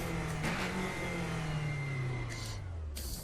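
A race car engine in the Raceroom sim, shifting up around 6,500 RPM in an H-pattern gearbox, holds a steady droning pitch that slides downward as it revs, with brief gear-change surges layered under a continuous hum.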